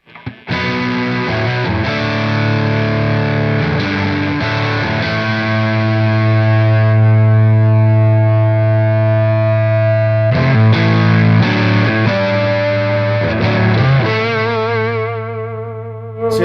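Electric guitar with heavy distortion plays through Whitfill and Superplex amps into a 112 cabinet with a high-wattage speaker, loud sustained chords and ringing notes with brief gaps, alone without voices.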